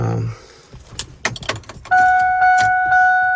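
Keys jangle and clink close by in quick bursts, followed by a steady electronic door-open chime tone from a 1998 Ford Ranger.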